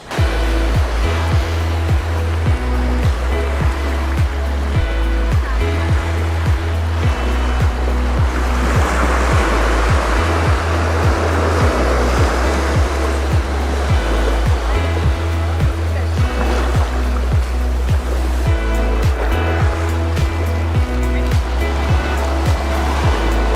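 Sea waves wash continuously onto a small South Goa beach where a river flows into the sea, a steady broad roar with a low rumbling undertone throughout.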